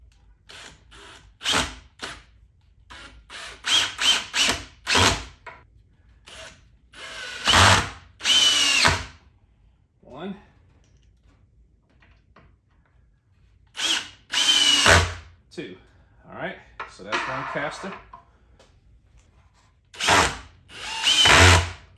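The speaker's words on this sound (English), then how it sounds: "Just pre-drilling the hole so I won't get it in the splits." A power drill whirs in repeated short bursts and longer runs, pre-drilling a hole in wood up close, with pauses and clicks between passes.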